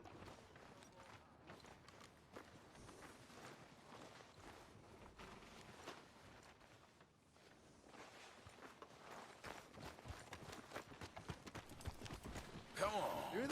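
Horse hooves clip-clop steadily on the ground in Red Dead Redemption 2, a quiet rhythmic patter of footfalls under a faint game background that picks up slightly toward the end.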